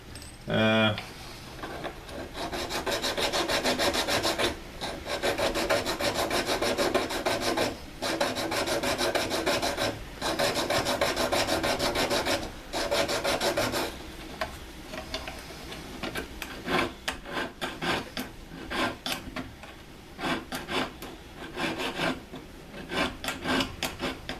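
A piece of jewelry is filed down by hand, giving close, rhythmic rasping strokes, first long and sustained, then shorter and quicker in bursts.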